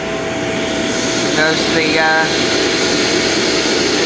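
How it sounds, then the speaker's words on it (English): An HTP Munchkin boiler with a fault runs its exhaust induction blower, a steady whirring hum that continues through the clip while a person speaks over it. "exhaust blower, induction blower."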